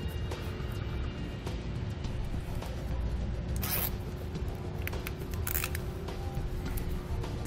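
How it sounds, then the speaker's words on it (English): A zip tie ratchets tight around excess trailer wiring tucked over a hitch during a vehicle wiring harness install, giving short close zipping bursts over a steady background hum. "use a zip tie to secure it"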